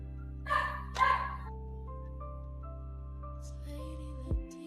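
A dog gives two quick barks close by early on, then a short yip near the end, over a steady low electrical hum and faint tones.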